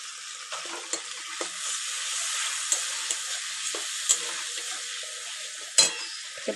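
Spice paste with salt and turmeric frying in a pan for a shad fish curry, a low steady sizzle broken by occasional clicks and taps of a spoon on the pan.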